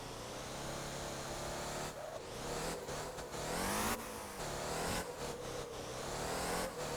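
A Xeno car drifting in the Motor Town driving game, its engine droning and revving continuously with a hissing edge, rising and dipping as the throttle is flicked.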